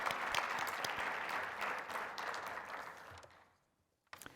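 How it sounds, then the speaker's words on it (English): A conference audience applauds research abstracts with dense, steady clapping that fades out after about three seconds, followed by a brief click of handling noise. "So join me in a round of applause for these 3 excellent abstracts."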